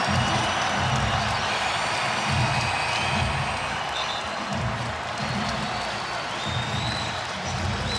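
A large indoor crowd roars and applauds continuously at a college basketball game, Providence versus Marquette, with swelling cheers and scattered whoops echoing through an arena.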